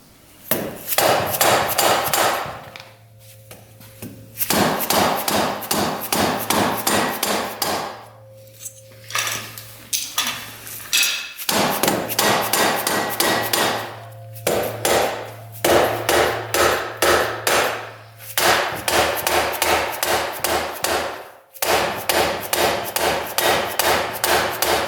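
Impact wrench loosening bolts on a 1200cc motorcycle that sat unused for over 20 years: long, loud, close bursts of dense rattling hammering, broken by short gaps, with a steady low motor hum running under several bursts.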